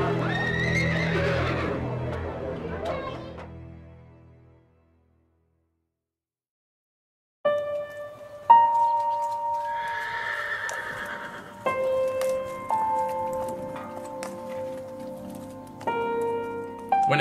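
Horses neigh and whinny in a sale yard for ex-racehorses, a loud call at the start, then silence, then several drawn-out, wavering whinnies rising over a faint background of movement.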